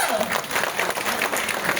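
An audience applauding a singer, a dense burst of many hands clapping that fills the room steadily and is fairly loud and close, with a voice mixed in.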